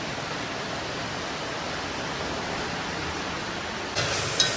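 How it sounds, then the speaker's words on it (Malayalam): Heavy rain pours down steadily in an unbroken dense hiss, loud and close, with no talk over it. "നല്ല മഴ പെയ്യാൻ തുടങ്ങിയിട്ടുണ്ട്"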